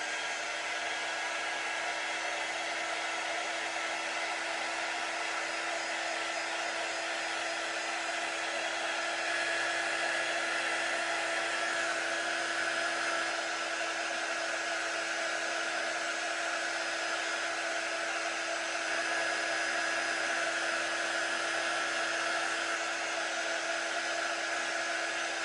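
A hair dryer runs continuously, drying the sticky side of an ink mat transfer; a steady, loud, close whoosh holds without pause throughout.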